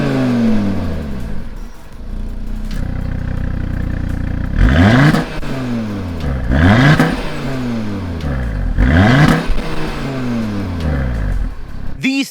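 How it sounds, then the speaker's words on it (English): A 2021 Audi Q3 RS Sportback with an optional valved sport exhaust revs hard several times, each blip rising and falling back to a throaty idle, loud and close with no talking. "this car comes with a sport exhaust"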